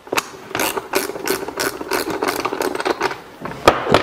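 Ratchet wrench loosening 13 mm nuts on an electric bike, giving a rapid series of loud, close clicking bursts with brief pauses between strokes, alone without talk.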